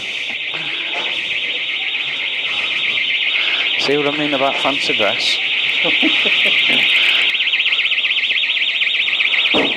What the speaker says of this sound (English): Some alarms going off.